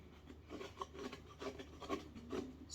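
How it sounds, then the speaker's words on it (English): A small shovel scrapes the inside of a pumpkin in a series of soft, rasping strokes, quiet and close, with no talking. "So what we're going to do is we're gonna try and scrape,"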